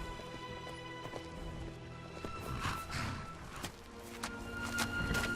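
Horse hooves clip-clopping at a run in Skyrim, a steady rapid beat over game music and ambient layers, moderately loud throughout.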